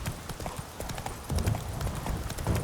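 Horse hooves clip-clop in a quick, uneven trot in The Witcher 3, close and fairly loud, with faint background game sounds.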